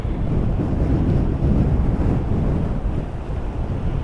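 Strong wind buffeting a camera microphone at a sandy, stormy shoreline basin, a loud continuous roaring rumble with gusty surges throughout, no voices.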